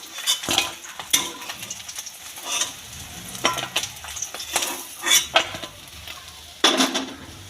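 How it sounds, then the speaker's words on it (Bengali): Rohu fish fry in a wok, giving a steady crackling sizzle broken by repeated scraping and clinking of a metal spatula as the pieces are stirred and turned. "এবার মাছগুলোকে আমি একটা একটা করে ভেজে নেব"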